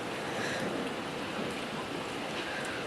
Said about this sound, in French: ça y est, c'est la pluie, hein, qui remplace la neige